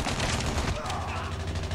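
Gunfire in Call of Duty Mobile crackles in a rapid burst of shots, loud and close, with a player talking over the game sound.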